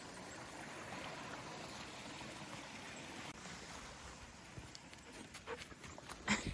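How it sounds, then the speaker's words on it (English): Continuous rushing water from a tiny waterfall and high-running stream on a Pennsylvania hiking trail fills the clip, with a few clicks and bumps toward the end. "We got a tiny little waterfall."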